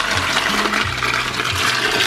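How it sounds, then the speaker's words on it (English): Brine being poured over a turkey during Thanksgiving preparation, a close, loud gushing and splashing of liquid that flows continuously for the whole short stretch with no talk. "it's time to pour it over the turkey"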